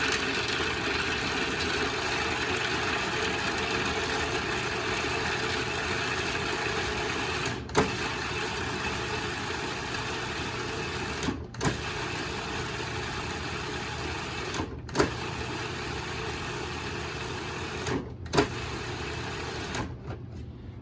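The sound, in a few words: food processor chopping garlic scapes for pesto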